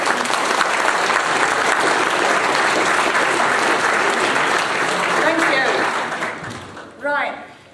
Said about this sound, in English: So big round of applause again for Kaz and Linda.